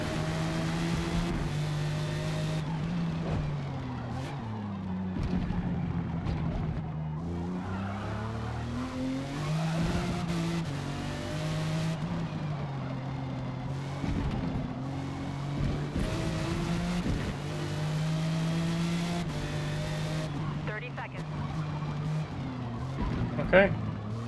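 Jaguar XJR-15 racing car in a video game, its engine droning steadily with shifting pitch through gear changes, tires skidding and squealing at points, under ongoing commentary from a player.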